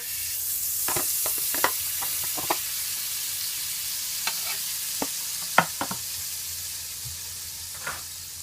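Butter melts in a pot, left over from cooking French toast, with a low sizzle under scattered sharp clicks and scrapes of a utensil against the pot, close and fairly quiet, with no speech.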